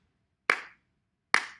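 Two sharp, isolated hand claps in a quarter-note rhythm for a music lesson, crisp and close with clean silence between them.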